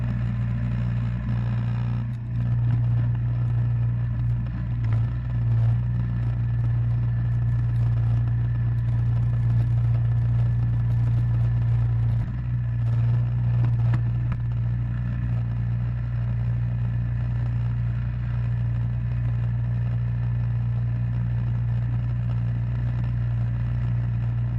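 A Yard Machines two-stage gas snow thrower runs steadily at close range, its engine holding a constant hum with slight fluctuations and no pauses.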